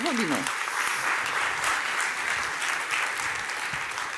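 An audience at a live conference applauds a speaker called to the stage, a thick, continuous clapping that stays loud and close; a voice is heard briefly at the very start.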